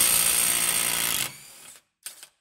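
An impact gun hammers loose a 32 mm hub nut on a 2006 Subaru Outback during CV shaft work, a loud continuous rattling burst lasting over a second, then dying away with a brief short follow-up blip.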